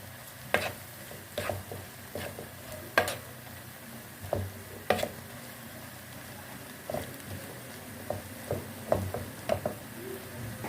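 Cabbage, onion, tomato and capsicum being stirred together in a pan, with irregular spoon scrapes and clatters over a low sizzle, close and moderately loud, no talking.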